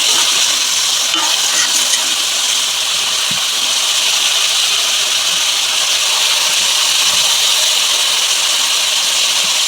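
Boiled potatoes and pumpkin stalks are turned over in a hot pan, a continuous hissing sizzle with a few faint scraping knocks of a spoon, steady throughout.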